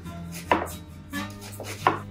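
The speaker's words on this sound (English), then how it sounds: "Start with chopping up the onion" Three sharp knife strokes chop an onion on a cutting board at an uneven pace, close and crisp over a low steady hum.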